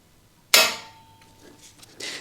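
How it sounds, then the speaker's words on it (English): A centre punch struck with a hammer on a broken motorcycle frame bolt in a garage, one sharp, loud metallic strike with a short ringing decay, then a quieter clatter of tools afterward. "Put your centre punch back in, give it a good thwack and make a proper mark that's going to guide the drill."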